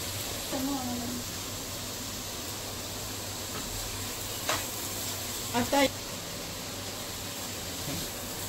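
Fenugreek leaves fry in an open pan with onion and garlic, giving a faint, steady sizzling hiss with a few brief stirring knocks.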